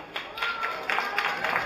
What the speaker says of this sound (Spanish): Ok, fuerte el aplauso para Dylan.